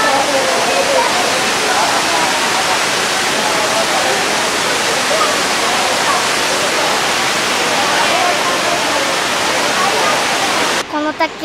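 A waterfall roars loud and close as a dense, unbroken rush of falling water, steady throughout; voices speak faintly beneath it.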